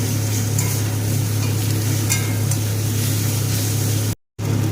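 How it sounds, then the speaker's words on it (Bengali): Ground garlic paste frying in a pan for a green pea curry, giving a steady, close sizzle with occasional stirring, loud and continuous, briefly cut to silence near the end, no talking. "রসুনটাকে দিয়ে ভালো করে ভেজে নেব যাতে রসুনের কাঁচা গন্ধটা চলে যায়"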